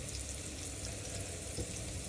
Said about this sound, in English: we're just gonna let these guys sizzle